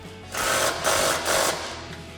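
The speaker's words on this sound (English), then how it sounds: "Grab your impact in 18mm socket and a 19mm wrench. We'll tighten this one down." An impact wrench with an 18mm socket tightens a rear toe link bolt on a 2015-2025 Ford Mustang with C&L adjustable toe links, three quick loud hammering bursts in close succession, no talking.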